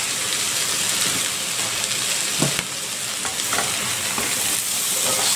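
Hoisin beef stir fry sizzles loudly in a hot pan, a dense steady hiss broken by scraping stirs and a few brief knocks of the utensil, heard up close with no talking.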